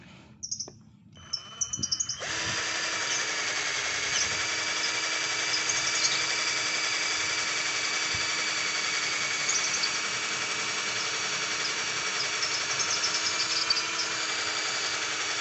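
A cordless drill fitted with a 6 mm bit whirs up after a few brief clicks and runs steadily at high speed for a long stretch, close and loud.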